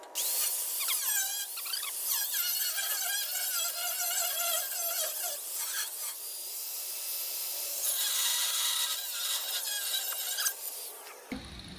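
A welded part is cut off a 1968 Chevrolet C10 truck with a power tool, a continuous high whining cut with shifting pitch lasting several seconds, close and loud, ending abruptly.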